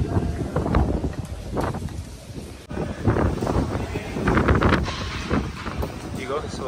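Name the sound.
strong cyclone wind blowing near beach road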